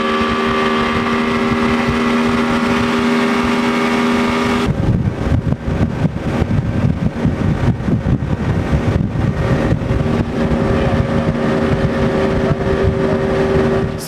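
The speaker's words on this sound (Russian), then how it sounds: "Специальный катер патрулирует акваторию Сенежа." A fisheries patrol motorboat runs on Lake Senezh, its engine a loud, continuous drone with wind and water noise throughout.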